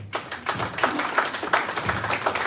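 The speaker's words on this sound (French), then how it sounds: "vous pouvez les applaudir" Audience clapping at a citizens' summit event in a hall, a steady dense patter of many hands held at an even level for the whole stretch.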